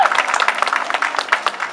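An audience claps at a cannabis rally in Cincinnati, a short, lively burst of crowd applause heard up close.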